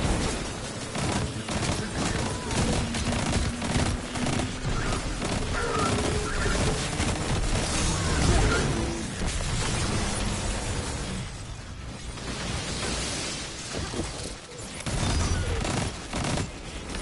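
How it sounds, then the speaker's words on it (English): A grenade launcher fires in a video game amid a dense, continuous barrage of explosions and gunfire, loud and chaotic throughout with repeated bursts. "Grenade launcher."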